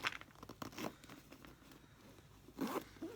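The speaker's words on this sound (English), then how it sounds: "Close that zipper." A purse zipper runs in a few quick, scratchy pulls, with a louder, longer zip near the end, close by.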